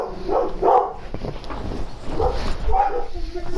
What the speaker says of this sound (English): Forget the dogs, it's just them barking at nonsense.